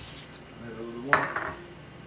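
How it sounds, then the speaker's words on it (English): Potatoes are tossed in canola oil in a bowl, making soft shuffling with one sharp clink against the bowl, under a faint murmuring voice. "Just using some high heat canola oil."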